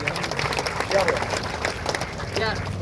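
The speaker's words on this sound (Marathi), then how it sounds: "टाळ्या वाजून आपण त्यांचा स्वीकार करू" A crowd at a long-march rally claps steadily as flags are handed over, with continuous dense applause mixed with crowd noise and a voice speaking over it.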